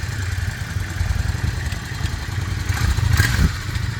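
A 2001 Yamaha XV650 V-Star motorcycle with about 3,000 miles runs nearby, its steady low engine rumble holding evenly with a brief louder clatter near the end and no talk.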